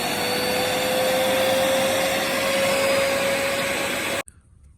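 A Limatic UVC carbon dry steam-vac machine runs its vacuum on high with a steady, loud motor roar and a constant whine, then stops abruptly near the end.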